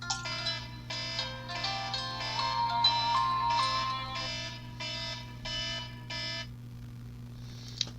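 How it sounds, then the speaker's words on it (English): An alarm goes off with a repeating electronic melody of about eleven rapid beeping pulses, fairly loud over a steady hum, then stops near the end. "Got my alarms set every hour"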